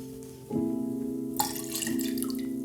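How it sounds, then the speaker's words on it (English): Water running from a tap to rinse a bamboo matcha tea whisk, a close steady flow that starts suddenly and continues with splashy variation, alone without talk. "in a really proper setting you would do this with cold water, which is actually just to clean the tea whisk"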